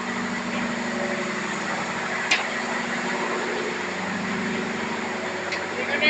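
A ship's engine room with two engines: a steady, loud mechanical drone runs throughout with a constant hum, and a couple of brief sharp clanks stand out.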